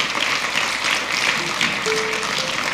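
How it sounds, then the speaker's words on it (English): Audience applause at a Burns Night gathering after a sword dance, a dense steady clapping from a crowd throughout, with a voice briefly audible over it. "Give that a round of applause"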